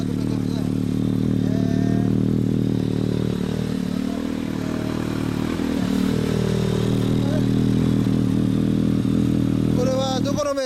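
A 2013 Triumph Daytona 675R motorcycle with an aftermarket exhaust idles steadily nearby, giving a constant, loud engine rumble throughout with a slight rise near the end, while people talk faintly around it.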